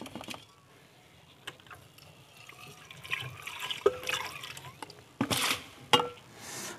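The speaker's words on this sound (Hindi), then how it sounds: "तो इसमें से ये गदला पानी हटा देते हैं" Muddy water from a gold-recovery process, with gold taken from cellphone circuit boards, poured off into another beaker, with soft trickling that builds into louder splashing bursts near the end.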